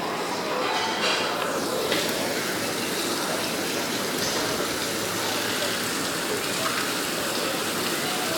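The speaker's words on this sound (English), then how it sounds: "Guys, it's raining." Heavy rain pours down during a thunderstorm, making a steady, loud hiss of water hitting surfaces throughout.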